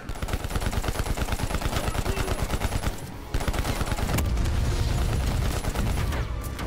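Rapid turret gunfire in the Call of Duty Black Ops Cold War campaign: a loud, continuous stream of rhythmic automatic shots with one brief pause before the firing resumes.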